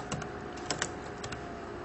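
A computer keyboard clacks with a few scattered keystrokes in quick irregular taps, close but quiet, over a steady background hiss with no talking.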